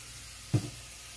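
Hamburger patties fry in a pan with a faint, steady sizzle, broken by one short soft knock or stir midway.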